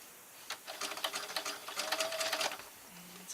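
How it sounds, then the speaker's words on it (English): A sewing machine stitches fabric while gathering it with lightly tensioned elastic thread, heard close as a quick, even run of needle clatter that slows and ends after a couple of seconds. "I'm going to just give it a light tension on the elastic as I sew."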